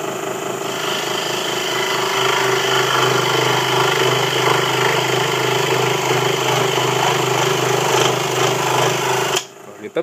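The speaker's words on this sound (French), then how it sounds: "je me sers de la scie à chantourner comme je l'ai" A steady mechanical buzz of a scroll saw cutting wood runs continuously at close range, loud and even, stopping abruptly near the end.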